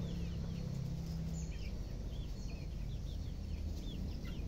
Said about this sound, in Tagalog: Ayun po yung tandang na malaki oh.